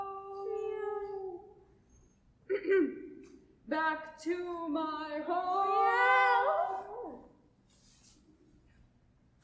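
A performer voices a sad cat in a children's theater play, imitating its meows with long, wavering, sung cries that rise and fall across several seconds, close and clear, mixed with spoken lines.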